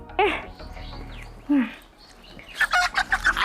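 A hen tied up in a rural yard lets out a couple of squawky clucks, then a quick run of sharp, close clucking toward the end over a low background hum.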